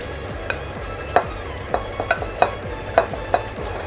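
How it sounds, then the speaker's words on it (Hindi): A spoon stirs and scrapes fried onions through mutton korma cooking with yogurt in a pressure cooker pan. Rhythmic strokes and clinks repeat over a soft, steady sizzle, close and with no talking. "प्याज के साथ भी 1 से 2 मिनट तक भून लेंगे इसको हम"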